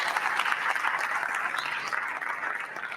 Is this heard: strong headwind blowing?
no